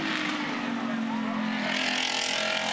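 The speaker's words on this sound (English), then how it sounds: "Tony D'Alberto lights it up in the GT4 Mustang. And does he light it up? Have a listen to this thing" A Roush Fenway-powered Ford Mustang GT4 race car climbs the mountain at Bathurst at full throttle, a loud, steady engine howl with rising pitch, heard under a commentator talking.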